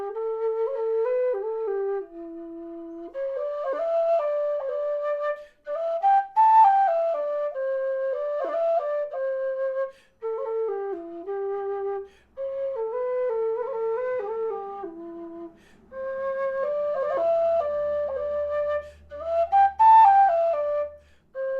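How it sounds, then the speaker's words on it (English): A Mountain Made Low D whistle plays the A part of the tune Bonaparte Crossing the Alps, a breathy, mellow solo melody of sustained notes and ornamented runs, played alone in short phrases with brief pauses. "the A part, again, of Bonaparte Crossing the Alps on the Mountain Made Low D"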